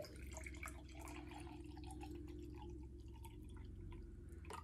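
Water is poured into a personal blender cup, a faint close trickle with scattered drips and splashes over a low steady hum, with no talking.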